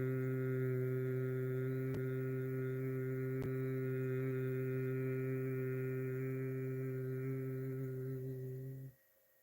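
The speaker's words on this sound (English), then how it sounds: "Extend that humming, nice and easy" A person hums a long, steady, even tone during a yoga breathing exercise with the ears lightly closed, sustained for several seconds before stopping abruptly.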